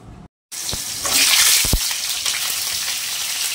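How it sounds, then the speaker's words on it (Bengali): Potatoes go into a pan and hiss in hot oil, a loud steady sizzle starting abruptly after a brief silence, with a few low knocks from the pan near the start. "এই যে আলুগুলো ভাজতে বসিয়ে দিলাম"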